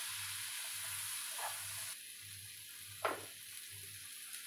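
Boiled pasta stirred into a creamy mushroom sauce in a pan, with a steady soft sizzle and a couple of brief scraping strokes standing out, no talking.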